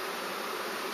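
Honey bees from a package hive, being hived in Donegal, give off a close, continuous, even buzz that never lets up.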